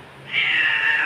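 A house cat meows once, a single drawn-out, affectionate cry that rises and holds steady for nearly a second, close and clear against a quiet room.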